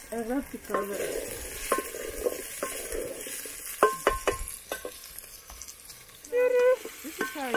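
Fish curry cooks in a pot in an African village kitchen, giving off a steady bubbling simmer with scraping stir strokes and a few sharp clinks of a utensil against the pot, close and moderately loud.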